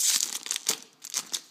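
A foil trading-card booster pack crinkles and tears open up close in a quick run of sharp, papery rips and rustles, with no talking.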